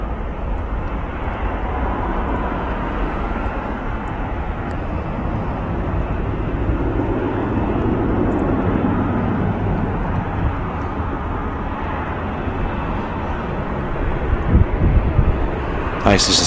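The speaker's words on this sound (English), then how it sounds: "Nice just to see the aircraft climbing out there." Aircraft climbing out after takeoff from runway 05 at Manchester Airport, a steady broad roar that swells through the middle and holds throughout, with wind buffeting the microphone.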